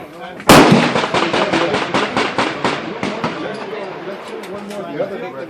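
A single sharp AR-15 rifle gunshot cracks close by, followed by a ringing, slowly fading outdoor echo and a few faint knocks as the tail dies away.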